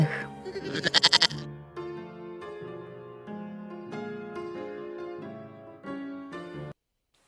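A goat bleats in a wavering, drawn-out series of cries, one loud strained call at the start followed by several long tremulous bleats, close and alone without voices.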